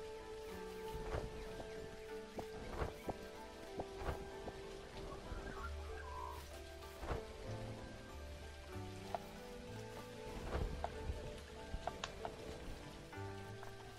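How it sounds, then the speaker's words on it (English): Rain falling in the video game Dinkum, a soft continuous patter with scattered sharper drop ticks over a faint musical backdrop, with no talking. "It rains a lot more than it used to"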